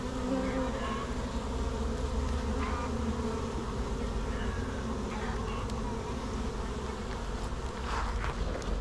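Honey bees swarm around a new beehive, a dense continuous buzzing hum that stays loud and close throughout with no pauses.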